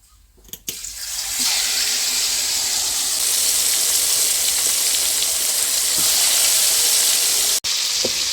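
Whole jilebi fish (tilapia) fries in hot oil, village style, giving a loud, steady, close sizzling hiss that holds nearly unbroken after a brief start.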